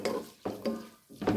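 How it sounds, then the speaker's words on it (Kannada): Onions being stirred and fried dry until brown in a pan for chicken masala: three scraping strokes of a utensil across the pan, each followed by a brief pause, with a soft sizzle underneath. "ಅಷ್ಟರವರೆಗೆ ಹೀಗೆ ಮಿಕ್ಸ್ ಮಾಡ್ತಾ ಇರಬೇಕು"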